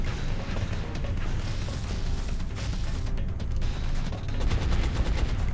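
Sustained bursts of gunfire from the turn-based video game XCOM: Enemy Within (Long War mod), a loud, dense crackle of rapid shots running continuously with no pauses.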